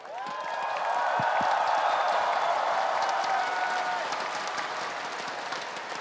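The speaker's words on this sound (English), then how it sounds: "A round of applause for Chovy." An esports arena crowd at the 2025 MSI Grand Finals claps for League of Legends player Chovy, a loud sustained round of applause that swells and then holds steady.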